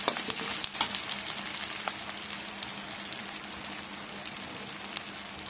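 Chopped onion, garlic and green chili frying in a pan, a dense continuous crackling sizzle, close and steady with no voices.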